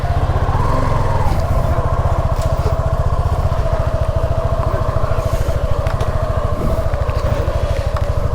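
The engine of a Honda CBR250 motorcycle idles loudly and steadily nearby, with a rapid, even low-pitched pulse and some mechanical clatter throughout, and no talk.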